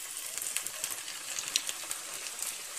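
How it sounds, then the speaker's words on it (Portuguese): Small pastries made from three ingredients fry in hot oil, a soft, continuous sizzle with crackling pops throughout, fairly faint and heard on its own. "Vamos fritar."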